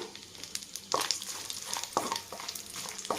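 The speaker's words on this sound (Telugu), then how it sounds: "ఇప్పుడు మనం బిర్యానీ గింజలు యాడ్ చేసుకుందాము" Rice grains for biryani stirred in a hot pan with golden fried cashews, a steady close sizzle broken by several scraping stir strokes.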